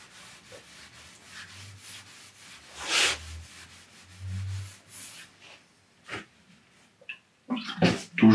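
Cotton rubbed steadily along the grain of wooden panels, applying a finish for a two-tone decorative paint job: repeated soft swishing strokes at close range, then a few louder scrapes and handling sounds at the end.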